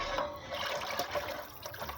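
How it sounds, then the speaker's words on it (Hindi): A thick mixture of yogurt, gram flour and water, about 2.25 litres, poured into a pot for kadhi pakora, making a steady, loud, continuous liquid gush and splash. "अब हम इसमें डाल रहे हैं वो दही, बेसन और पानी का जो हमने शेक बनाया था वो।"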